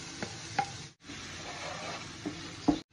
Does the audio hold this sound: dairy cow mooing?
no